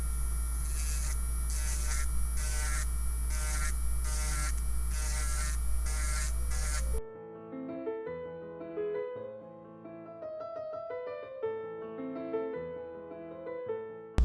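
An electric nail drill spinning at 9,000 RPM files polygel nails with a steady high whine and buzz for several seconds, then drops to quieter, uneven grinding and tapping as the bit works the surface.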